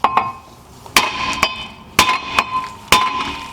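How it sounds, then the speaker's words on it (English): Sharp metallic hammer strikes ring out on a front brake rotor of a Cadillac SRX, several blows in irregular pairs, each with a brief bright ring. "I'll just go on ahead and grab a hammer, because this one's not going to come off, and I'll show you how to hit it off."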